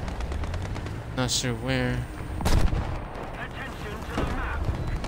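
Gunfire in the combat game War Thunder, loud bursts with one heavy blast near the middle, set under steady engine drone while someone talks over it.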